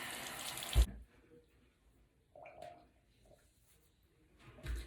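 Water splashed to wash makeup off the face and neck, a brief burst of running water followed by quieter intermittent splashes and drips close by.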